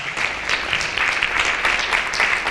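A crowd at a criminal justice summit forum for gubernatorial candidates applauds candidate Ned Lamont, a loud, thick burst of continuous clapping from many people with no voices over it.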